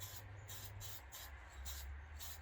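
Black chalkboard spray paint is misted onto a duck decoy in a quiet, close series of short bursts of hiss with a steady pulsing rhythm.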